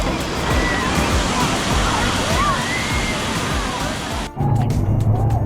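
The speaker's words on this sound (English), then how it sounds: "Here come the waves." Churning water of a wave pool at Volcano Bay water park, a loud steady rush and slosh of surging waves close by, with a sudden brief dip and a splashy shift near the end.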